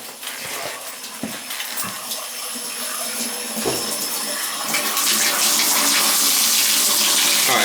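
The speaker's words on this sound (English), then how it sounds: "we can go around and do all the faucets now. Hot and cold, yeah, get all the air out." Water gushes from an opened faucet while air is purged from the lines, starting with sputtering, uneven bursts and building into a steady, loud rush close by.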